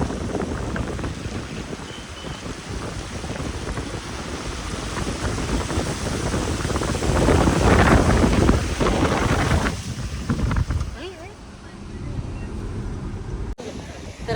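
Strong wind buffets the microphone at Tiger Point in thick fog, a loud continuous roar that surges around the middle and eases briefly near the end.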